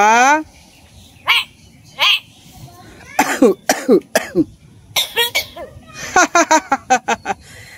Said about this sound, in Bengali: কাশি দিয়ে এলো